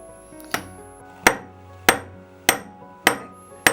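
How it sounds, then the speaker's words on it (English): Sharp metallic hammer taps flattening silver ring links for a chain, about six evenly spaced strikes with a ringing decay, close and clear against a quiet background. "I then have to hammer each oval flat in order to create each link"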